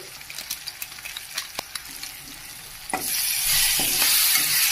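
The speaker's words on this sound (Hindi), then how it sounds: "अरे मिक्स कर लीजिए बढ़िया से मिक्स करना होगा" Coriander, cumin and red chili powders are stirred into a frying pan for paneer curry: a series of quick spoon clicks and scrapes, then a loud, hissing sizzle that swells and holds to the end, close up with no talking.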